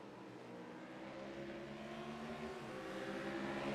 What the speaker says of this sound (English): A pair of Stangs and a pair of the Lamborghinis running nose to tail.